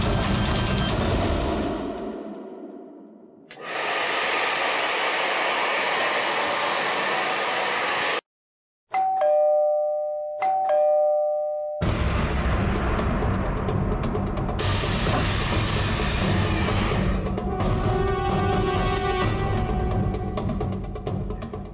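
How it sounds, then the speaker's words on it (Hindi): A two-tone doorbell chime rings out during a brief lull between stretches of loud, steady roaring from a hair dryer and an air conditioner. "एसी और हेयर ड्रायर की आवाज के ऊपर भी बेल की आवाज साफ सुनाई दे रही है।"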